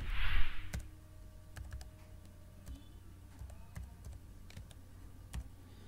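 Keys clicking on a computer keyboard as an ID number is entered, a short run of separate taps with irregular spacing, close and fairly quiet with a low background hum and no talking.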